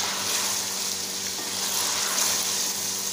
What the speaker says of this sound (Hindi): अब मैं इसे 6 से 7 मिनट तक पकाऊंगी